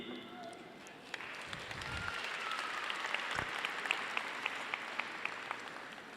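An audience at a Catholic church self-help group's annual general meeting claps, faint at first and then swelling into steady applause under a speaker's voice.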